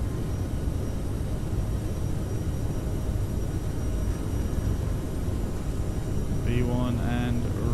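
A CRJ700 regional jet accelerates down the runway for takeoff in Microsoft Flight Simulator, its engines giving a steady, dense, full roar throughout, with brief tonal chirps near the end.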